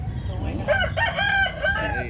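A rooster crows loudly and close by, one long wavering call.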